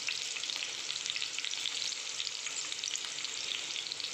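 Green chilies sauté over a low flame in a pan, giving a steady, close sizzle and crackle of frying oil with faint stirring, no voices over it.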